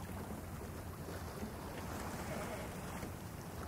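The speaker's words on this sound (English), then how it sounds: "You can hear the water hitting the side of the boat." Steady rush of water washing along a sailboat's hull under sail off Iceland, with soft wind noise, a continuous even wash without engine sound.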